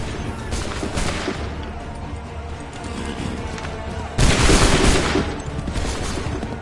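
Musket volleys crack out in Assassin's Creed 3: a scattered first round of shots, then a sudden loud massed volley roaring together near the end, with rumbling battlefield noise between.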